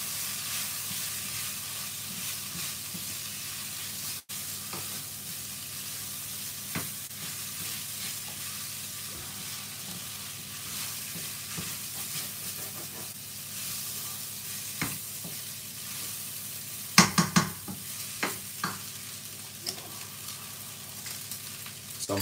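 Vegetable rice sizzling in a pan while being stirred, a steady low crackle and hiss throughout with a few sharper spoon clinks and scrapes near the end, close and without speech.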